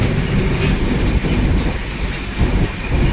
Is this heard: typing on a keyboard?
no